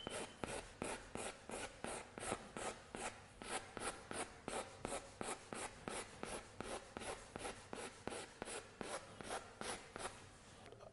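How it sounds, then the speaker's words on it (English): A graphite pencil is stroked over paper in a steady back-and-forth rhythm of short, close, soft scratching rubs, repeating evenly throughout and heard alone. "graphite's nice though, nice and smooth to draw with"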